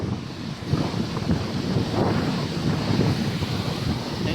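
Large sea waves crashing and surging at a beach, a continuous loud roar of surf with heavy wind buffeting the microphone, no talk.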